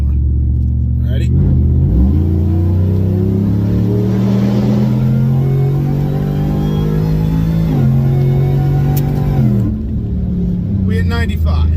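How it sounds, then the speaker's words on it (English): Supercharged car with a Whipple blower, AWE exhaust, long-tube headers and cam pulling at full throttle, heard from inside the cabin as a loud, steady rising drone with brief dips at gear shifts, a voice speaking over it. "So we are going to get a little full throttle here."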